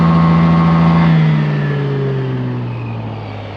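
Yamaha Aerox 155 Version S scooter engine revving hard with its rear wheel spinning freely, a loud steady high-pitched whine that slowly drops in pitch as the revs fall away.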